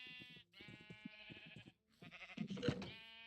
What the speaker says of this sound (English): Hey, Nomad, I just caught a sheep on fire